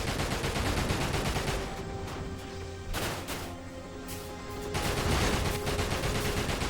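Rockets and heavy gunfire strike around the player in Dirge of Cerberus, a dense barrage of crashing blasts and rapid shots with sharp bursts near three and five seconds.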